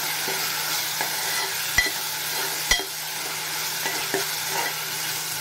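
Green paste of fresh coconut, coriander, garlic, ginger and cumin frying in a pan for a kingfish curry, a steady soft sizzle close by with occasional sharp scrapes and taps of a spoon stirring.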